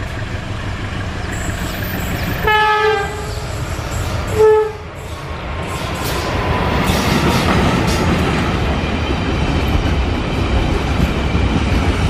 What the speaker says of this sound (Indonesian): kita akan cegat kereta yang melintas di sini